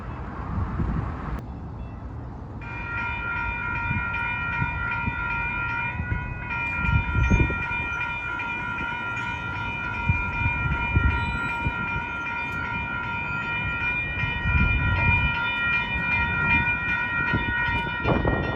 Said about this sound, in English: Here's another train going northbound.